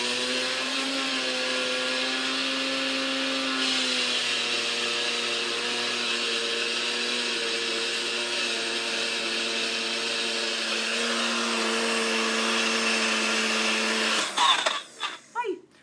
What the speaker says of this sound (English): What I love about NutriBullets as grinders